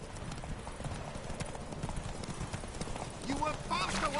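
Horse galloping in The Witcher 3, with steady rapid clip-clop hoofbeats throughout, mixed with game sounds and a brief whinny near the end, under a voice.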